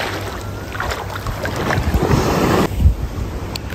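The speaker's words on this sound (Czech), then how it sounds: "Ty moři jsou vlny, to je hrůza." Ocean waves at an Australian beach in the early morning, heard as a rushing wash of surf mixed with heavy wind buffeting the microphone, swelling and breaking over a few seconds with no voices.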